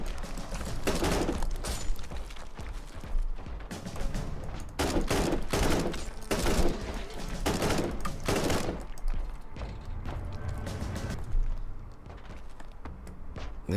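Rapid gunfire rattles through combat in Warhammer 40,000: Inquisitor – Martyr, bursts of automatic shots and heavy blasts piling up into a dense, continuous fusillade with brief lulls between volleys.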